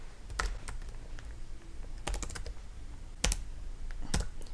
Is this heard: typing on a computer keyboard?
yes